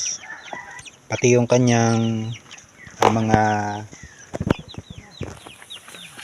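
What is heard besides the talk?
45-day-old chickens clucking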